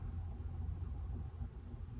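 Crickets chirp at night in a town setting, a steady high trill pulsing in regular bursts over a low background rumble, continuous and moderately close.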